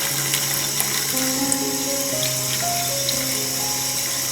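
Tap water runs steadily into a sink while freshly harvested garden vegetables are rinsed beneath it, a close, continuous splashing hiss with faint tonal hums from the plumbing and no voices.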